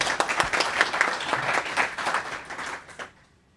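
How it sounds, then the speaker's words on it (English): Applause from a healthcare conference audience on waterborne infections, a full, even patter of many hands that tapers off and fades to quiet near the end. "Let's give a round of applause for Dr. Manatot"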